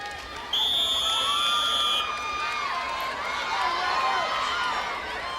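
Crowd cheering at American Gladiators: an arena audience roars and whoops steadily, with a shrill whistle blast near the start rising above the din.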